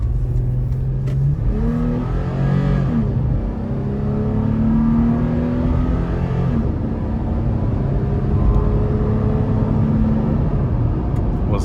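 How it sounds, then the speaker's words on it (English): A 2021 Toyota 4Runner SR5 engine roars at full throttle, driven down a ramp, a loud, steady rising drone with harmonic whine building through the run and no talk over it. "So I'm gonna give it some gas coming down the ramp here. I'm gonna basically put it to the floor."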